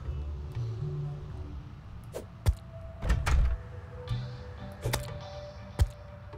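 Zombie banging on a wooden door in Terraria, several dull, irregular thuds and knocks spread over a few seconds above quiet game ambience, with no voices.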